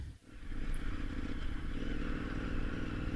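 A BMW F800 motorcycle riding off-road near Moab, heard up close from the handlebars, with a steady engine drone, rumble and rattle that runs unbroken after a brief dip at the start.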